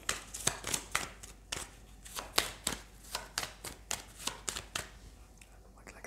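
Tarot cards riffled and shuffled by hand in a long run of quick, crisp flutters and snaps, close and fairly loud, with a card dropping near the end.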